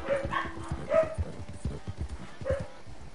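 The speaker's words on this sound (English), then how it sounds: "my brother just got back home and my freaking dogs are barking" Pet dogs barking indoors at home as someone arrives, a few loud barks spaced across a few seconds, heard over faint background game sounds.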